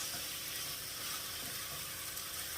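One kilo of beef mince sizzles and fries in a pan for Bolognese sauce, a steady, dense crackling hiss that holds at an even level throughout with no pauses.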